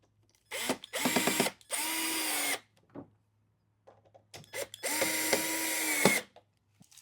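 A power drill drives screws into an Arachnid Cricket Pro 650 dart cabinet, with several close, loud bursts of whirring motor as each screw seats, separated by short silences and small handling clicks.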